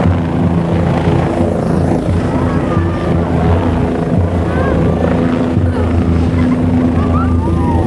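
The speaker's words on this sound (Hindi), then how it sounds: "हेलीकॉप्टर उतर चुका, लैंडिंग कर चुका है" An Air Force helicopter sets down at a ground in Khewra, its loud, steady rotor and engine roar filling the whole stretch close by, with a crowd and voices mixed in underneath.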